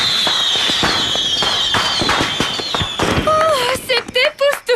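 Fireworks crackle and pop in rapid bursts with a whistling streak, close and loud, then a few voices and whistles take over at the end.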